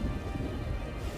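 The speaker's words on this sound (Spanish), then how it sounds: "¿Está lloviendo mucho?" Heavy rain pours down in a steady, dense wash of noise, loud and unbroken for a brief moment.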